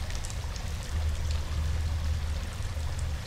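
Steady water flows in an underwater cave setting in The Sinking City, a continuous low rushing wash with a faint hiss above it, constant and fairly quiet, with no voices.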